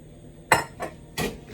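A utensil knocks and clinks against a pan as flour is quickly stirred into boiling melted butter for choux dough for a Gâteau St Honoré, giving three sharp, close metallic hits with short pauses between, no voices.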